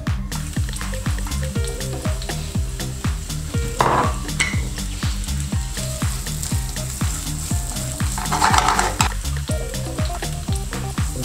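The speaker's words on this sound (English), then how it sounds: "Do you want to show them how to put the onions in the pan?" Onions frying in oil in a pan for caramelised onions, a loud, steady close sizzle with rhythmic stirring scrapes running throughout, no voices.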